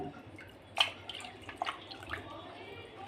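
Pangas fish being rinsed in water in a home kitchen, with light splashes and drips over a low background hum, fairly soft and close.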